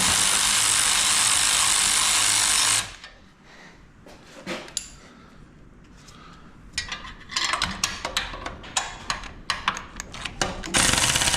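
A 12 mm wrench ratcheting on a car fastener during repair, giving bursts of dense clicking with quieter gaps and some background clatter, fairly close and loud, with no talk.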